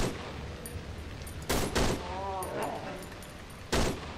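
Two sharp, loud gunshot bursts sound from the horror video game Cry of Fear, with a short echoing tail after each one. A voice talks briefly between them.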